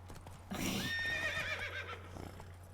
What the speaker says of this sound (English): She's not a great horse.